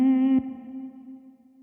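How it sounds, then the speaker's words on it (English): A pitch-edited sung vocal hum used as a beat sample: one sustained, clean humming tone with a soft click early on, then a gentle fade with a slight echoing tail. "this is the first hum I sang"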